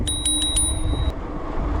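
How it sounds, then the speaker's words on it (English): Bicycle bell on an electric cruiser bike rings four quick times, loud and close, with a steady ringing tone that fades out under wind and road noise. "I got a bell."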